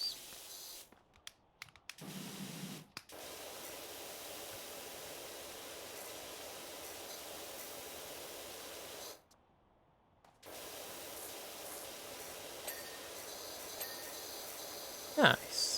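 Pressure washer spraying a dog house in the PowerWash Simulator video game, a steady broad hiss running almost the whole time with a couple of short breaks and one longer pause, while a voice talks faintly.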